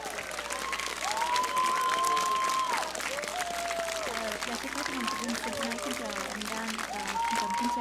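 A crowd at a live music show applauds to welcome a female singer on stage. Steady, full clapping continues throughout as a voice talks over it.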